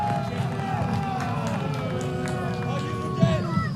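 Home crowd at an NC State men's college soccer match against Notre Dame murmurs and calls out in a broad, distant babble, with a few louder shouts near the end and a commentator talking over it.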